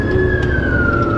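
A Miami Dade Fire Rescue truck's Rumbler siren, a loud, close, deep throbbing rumble under a high siren tone that slowly falls in pitch, heard briefly with no talk over it.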